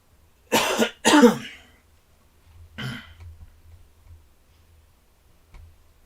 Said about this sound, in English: we're going to clear my throat